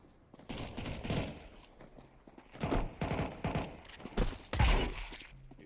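Gunfire in a first-person shooter game, with bursts of rapid shots and single heavy cracks scattered over several seconds, some louder and closer than others, with no speech.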